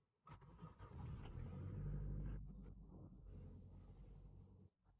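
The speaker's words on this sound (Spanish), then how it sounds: "Ahora quiero arrancar el coche" The engine of a 1997 Honda CR-V starts with a short crank, then settles into a low, steady idle rumble close by before cutting off.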